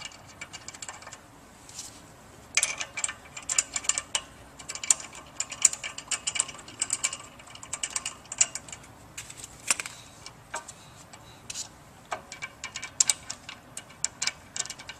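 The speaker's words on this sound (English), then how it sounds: "We'll just begin inserting the bolts." Rapid ratcheting clicks and small metallic taps as bolts are inserted and tightened on an Ebara water pump, coming in busy irregular bursts close up, with no talking.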